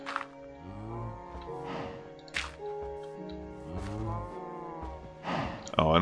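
Several drawn-out, tonal cow moos from Minecraft cattle overlap one another in a steady run of low calls, with a wet squishing blip near the end.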